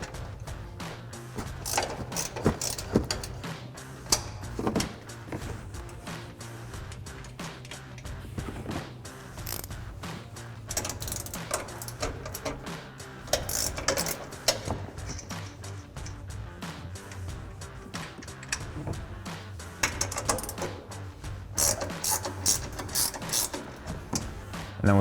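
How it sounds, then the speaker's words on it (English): A 15mm ratcheting wrench loosening the strut tower nuts on a Ford F-150, with rapid runs of close, crisp ratchet clicks repeating in bursts over a low steady hum. "So I've got a 15mm ratcheting wrench to pop these out."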